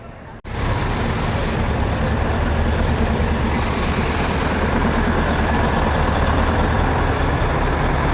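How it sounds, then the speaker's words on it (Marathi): A train pulls into Matheran station, a loud, steady engine rumble and broadband roar that starts suddenly and holds throughout, with air-brake-like hiss over the top. "तर इथे आली आहे ट्रेन"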